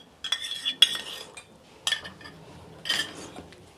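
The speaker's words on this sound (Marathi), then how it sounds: "आता हे चांगलं मिक्स करून घेते" Spoon scraping and clinking against a bowl while curd is mixed into semolina snack batter, a few distinct clusters of clatter over quiet gaps, close and moderately loud.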